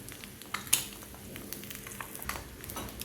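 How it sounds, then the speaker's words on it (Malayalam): An egg fries in a pan as a bullseye, giving a soft, even sizzle close by with a brief spit near the start and no talk. "ഇതിലോട്ട് ബുൾസൈ ഒഴിച്ചു കൊടുക്കാം"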